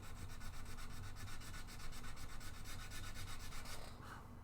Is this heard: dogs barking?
no